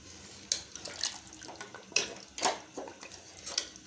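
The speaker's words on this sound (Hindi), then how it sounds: "अब मैं इसमें अपना पानी शामिल करूँगी।" Water splashing and trickling into a pot of beef paya (trotters) on the stove, a few distinct pours and splashes at close range with soft dripping between, no talking.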